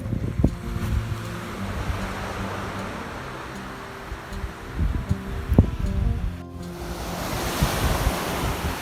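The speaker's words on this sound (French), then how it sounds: "Voilà, donc balade sur la plage." Surf rolling onto the long beach at São Martinho do Porto, a steady wash of breaking waves with wind buffeting the microphone throughout, no voices.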